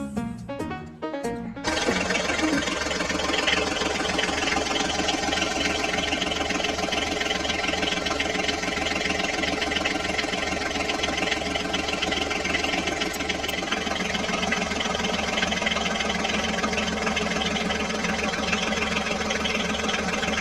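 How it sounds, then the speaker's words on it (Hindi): An HMT tractor engine runs steadily while a crane pulls the tractor out of a pit, a continuous even drone that holds for about twenty seconds after a few brief knocks at the start, with no talking. "चलो चलो बच्चों, अब हम HMT ट्रैक्टर को भी इस खड्डे से बाहर निकाल लेते हैं।"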